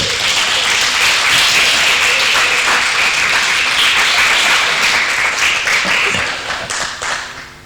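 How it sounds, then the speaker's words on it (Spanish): A church congregation applauds loudly and steadily, a dense wash of clapping that carries on for several seconds before tapering off at the end. "Denle un aplauso al Señor por eso."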